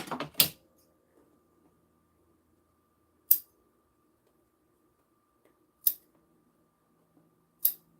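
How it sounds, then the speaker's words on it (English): Scissors snip through fabric during a sewing project, four sharp, isolated cuts spaced a few seconds apart, close and clear against near silence. "More snips."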